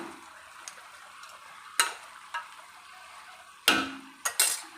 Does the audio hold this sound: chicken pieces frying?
yes